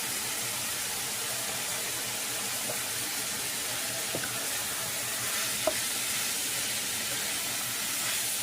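Green peppers, onions and carrots sizzle in a hot pan, a steady faint frying hiss with a couple of soft clinks from stirring, no talking.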